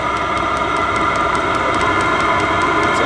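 A diesel heater on an overland setup runs steadily, a constant loud whir and airy rush of hot air with a faint regular ticking, no voices.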